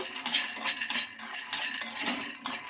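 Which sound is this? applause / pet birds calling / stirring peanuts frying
stirring peanuts frying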